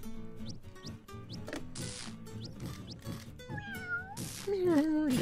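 A cat meows repeatedly in the Tasty Planet video game, several short close meows among game sounds and bursts of noise, with someone talking over them.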